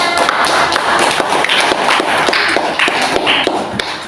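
A classroom of young pupils claps together to reward a correct quiz answer, a dense, steady burst of close hand claps lasting a few seconds with no talking over it.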